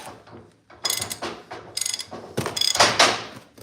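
A ratchet wrench turns a bolt with a tall shoulder: bursts of quick, close ratcheting clicks in short runs separated by pauses, crisp and fairly loud, with no speech.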